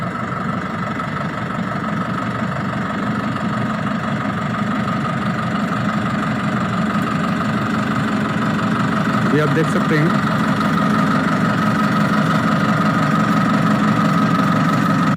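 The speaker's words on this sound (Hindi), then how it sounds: "अभी देखिए ट्रैक्टर रिवर्स पे आ रहा है तो पीटीओ भी रिवर्स पे घूम रहा है।" A tractor engine chugs steadily at close range while the tractor reverses with its ground PTO turning in reverse, running at an even idle-like pace while someone talks over it.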